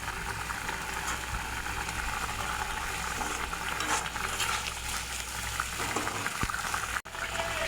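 Koi fish curry with boiled potatoes and garam masala bubbling in a pot on the stove, a steady close simmering bubble that runs unbroken and alone for the whole stretch, with no voices.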